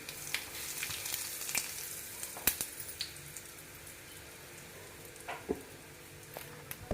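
Fenugreek seeds, mustard seeds and asafoetida fry in hot oil for a pickle tempering, giving a steady soft sizzle with scattered small pops and crackles. No one speaks.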